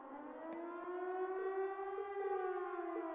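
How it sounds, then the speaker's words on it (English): A civil defense-style siren wails from a fort in a video game, a steady rising and falling tone with strong harmonics, sustained and fairly distant-sounding throughout with no talk. "Sounds like a siren. Seems to be coming from the fort."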